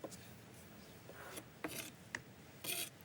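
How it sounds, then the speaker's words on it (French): A kitchen knife slices squid into thin bias-cut strips on a cutting board, giving soft scraping rubs and a few sharper cuts, close and quiet. "le chef fait de même avec l'autre partie de l'encornet et s'attaque au couteau"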